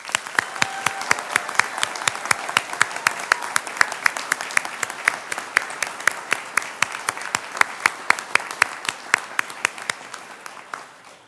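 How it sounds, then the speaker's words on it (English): Graduates receive a final round of applause at a fall commencement ceremony: a loud, sustained crowd clapping with crisp accented claps punctuating it steadily, tapering slightly toward the end. "Would everyone please join me in one final round of applause for this group?"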